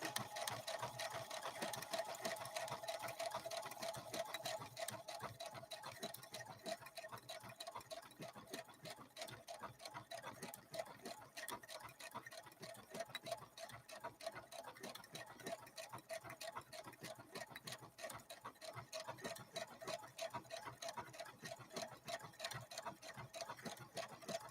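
A Brother LB-6800 embroidery machine stitching a complex pattern: a continuous rapid needle chatter with a steady mechanical hum, fairly faint and unbroken throughout, with no talking.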